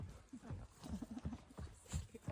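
Hooves of a yearling filly clip-clopping in an uneven rhythm as she runs circles, close by, with low thuds and a faint voice in the background.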